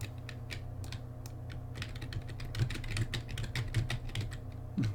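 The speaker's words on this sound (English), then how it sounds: "Typing on the keyboard now." Typing on a computer keyboard during a live stream, steady runs of quiet clicky keystrokes that grow busier midway, with a low hum underneath and no talking.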